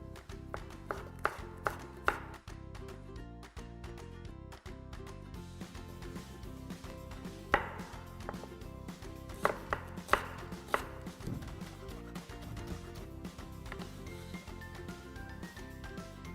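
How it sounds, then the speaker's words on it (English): A knife chops spring onion on a board while scrambled tofu on toast is being prepared. The crisp strikes come in irregular bursts, close by but fairly quiet, with no talking. "I'm going to chop some spring onion."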